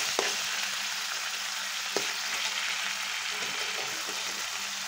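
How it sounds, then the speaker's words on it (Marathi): Garlic and onion fry crisply in hot oil in a pan, a steady close sizzling hiss with occasional soft utensil taps. "लसूण पण चांगला कडकडून घ्यायचा"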